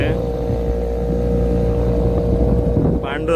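A fishing boat engine running at speed off Goa, a steady loud drone with strong low rumble and wind buffeting throughout, continuous and close.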